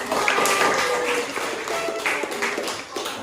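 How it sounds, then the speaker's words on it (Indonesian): Students in a classroom give a short burst of clapping, loose and uneven over about three seconds, mixed with voices and chatter. "Tepuk tangan dulu untuk kita."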